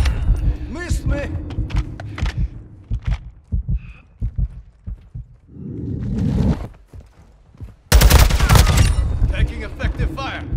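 Automatic gunfire in Call of Duty Modern Warfare 2 team deathmatch multiplayer, with a TAQ-56 rifle in use: rapid bursts and a heavy loud volley near the end, mixed with game voice callouts and other battle effects.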